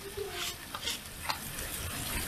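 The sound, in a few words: onion frying in oil with black pepper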